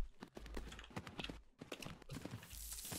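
Horse hooves clip-clop in the Tales of Rein Ravine riding game as the horse picks up speed, a quick, steady hoofbeat rhythm running close and clear throughout.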